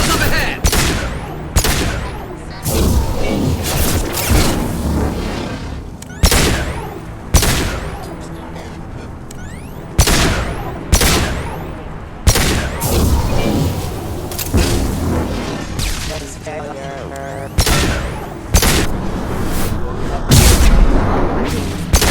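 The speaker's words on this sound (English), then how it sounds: "His mechs shoot without question." Mechs open fire in Mass Effect 2, with loud rapid bursts of gunfire and heavy booms that come in repeated volleys, dense and close, with voices occasionally mixed in.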